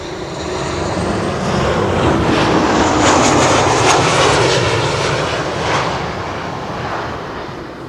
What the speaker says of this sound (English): KLM flight 1902 is arriving from Vienna, and that is a 737-800.